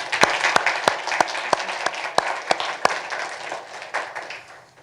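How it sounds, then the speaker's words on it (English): Audience applause at the close of a lecture on invisibility cloaks and optics, a burst of hand clapping with sharp individual claps standing out, steady for several seconds and then gradually thinning and fading. "So how about a round of applause for them?"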